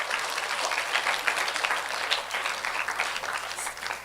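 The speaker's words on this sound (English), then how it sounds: "Give a round of applause for those special." An audience at a school graduation and open house applauds parents, steady dense clapping of moderate loudness that continues evenly throughout the few seconds.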